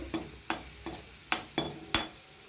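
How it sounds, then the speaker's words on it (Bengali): Garlic frying in a metal wok for a jute-leaf curry, with six sharp scrapes and clinks of a spatula against the metal over a soft sizzle, in an uneven rhythm. "রসুনটা মোটামুটিভাবে ভাজা হয়ে এসছে"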